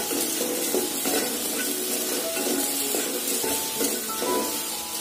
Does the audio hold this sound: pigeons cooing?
no